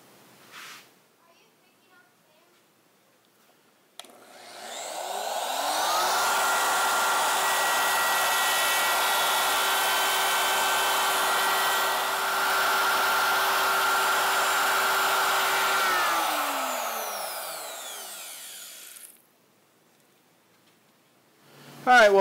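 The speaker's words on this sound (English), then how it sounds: "I'm finished routing out that piece" A wood router cutting out a piece of cherry, spinning up to a loud, steady high whine that holds for over ten seconds, then winds down, with quiet handling noises before and after.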